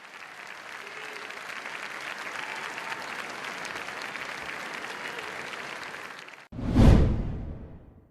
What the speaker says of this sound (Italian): Il pubblico, affascinato ancora una volta da quest'opera immortale, si è lasciato andare in un lungo e interminabile applauso